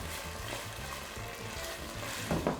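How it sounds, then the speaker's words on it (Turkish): Tomato paste frying in hot oil in a pan for a homemade Neapolitan pizza sauce, a steady close sizzle with a couple of louder stirring scrapes near the end. "Salçamı yağda güzelce kavurup içindeki asiditeyi düşürmeye çalışacağım."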